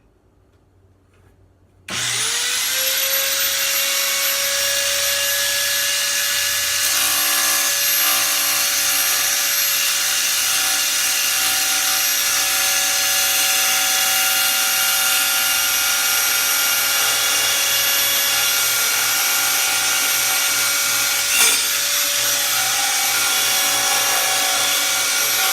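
An Ironman mini circular saw starts abruptly and spins up to a loud, steady high-pitched whine, running close and unchanging for over twenty seconds with a faint underlying hum.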